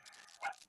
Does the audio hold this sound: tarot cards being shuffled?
no